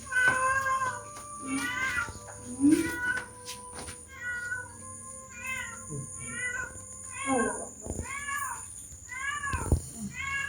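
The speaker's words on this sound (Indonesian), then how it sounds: "Temenan kucing nak." A cat at an old fort meows repeatedly, a string of rising and falling calls spaced through the scene, with quiet human voices and background noise beneath.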